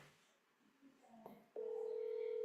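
A telephone line gives a steady, loud tone that starts suddenly partway through a call attempt and holds without a break, after quiet background noise.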